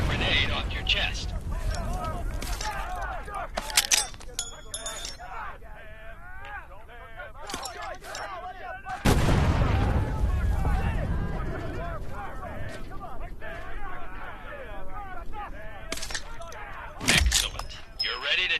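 Grenade blasts in the World War II VR game Medal of Honor: Above and Beyond. Two heavy, booming bursts stand out over rumbling background, with a voice talking through much of it.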